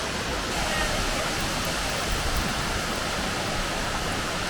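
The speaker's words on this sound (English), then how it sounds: "This is the Upper North Falls 65-foot waterfall." Upper North Falls, a 65-foot waterfall at Silver Falls in Oregon, roars as a dense, steady rush of falling water, loud and unbroken.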